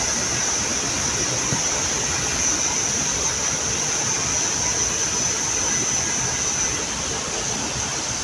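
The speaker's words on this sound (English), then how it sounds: "It's raining." Steady, dense hiss of heavy rain falling in La Trinidad, Benguet, Philippines, a constant broadband wash with no breaks, continuous throughout.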